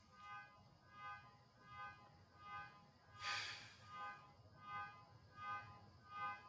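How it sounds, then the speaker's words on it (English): A car alarm going off nearby, heard faintly in a room, a repeating whooping tone cycling about once per second with a short burst of broadband noise in the middle and no talking. "And somebody's car alarm going off."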